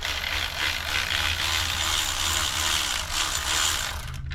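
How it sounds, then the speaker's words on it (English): Ratcheting air gun removing a bolt on a Mercedes CL55 with the supercharged M113K engine during water pump replacement, a steady, loud mechanical buzz with rapid ratcheting pulses running continuously for about four seconds before cutting off. "Let's go ahead and remove it now with our ratcheting gun."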